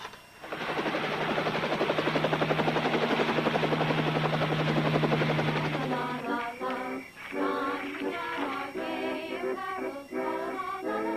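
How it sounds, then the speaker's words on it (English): A helicopter's rotor throbs in a loud, steady rapid chop for about six seconds, then breaks into uneven bursts of thumping as it moves off, with a droning engine tone beneath. "You better get me the helicopter."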